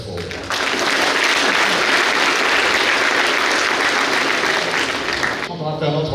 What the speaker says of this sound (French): je voudrais que vous vous applaudissiez très fort.